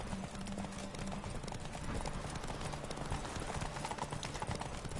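Galloping horse hooves in The Witcher 3: Wild Hunt, a steady rapid clip-clop rhythm running throughout at close range, with a low voice murmuring faintly beneath.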